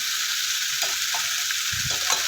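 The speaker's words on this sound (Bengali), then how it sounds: "ফুলকপি আলুটা মশলার সাথে ভালো করে কষিয়ে নিচ্ছি" Cauliflower and potato pieces fry with spices in a hot pan, a steady close sizzle broken by a few soft stirring scrapes.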